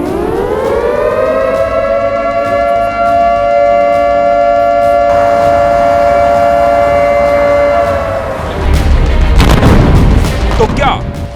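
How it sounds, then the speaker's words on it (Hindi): Loud air-raid warning siren holding a steady wailing tone, then heavy booming explosions and rumbling blasts take over near the end, dense and close. "खतरे का सायरन बज रहा है।"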